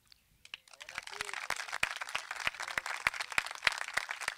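An audience at a Frente de Todos political rally presenting 2021 election candidates breaks into applause, starting faintly then building into brisk, crackling clapping with sharp individual claps standing out, alongside some talk.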